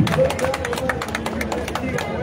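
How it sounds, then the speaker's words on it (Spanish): A crowd at an outdoor political rally claps steadily, with brisk overlapping hand claps and cheering voices under a speaker's loud amplified voice. "¡Aplauso para el pueblo!"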